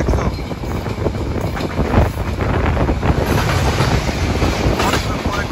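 The Padma Express passenger train runs from Rajshahi to Dhaka past Tongi station, a steady rumbling roll with rhythmic clickety-clack of wheels and wind rush, heard from inside the moving carriage.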